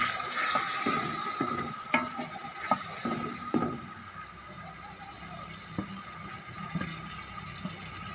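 Marinated chicken stirred into a haleem pot with soft sizzling and wet cooking sounds, punctuated by occasional clinks of a spoon against the pot, close and moderate in level.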